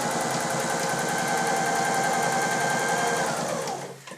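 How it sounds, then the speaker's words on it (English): Mechanical sewing machine driven by a foot pedal and stitching a straight stitch, a fast steady mechanical whir with even rapid pulsing, close and loud, running alone for about four seconds before slowing to a stop. "it's a mechanical machine, so I'll put my foot on the foot pedal and stitch the stitch out"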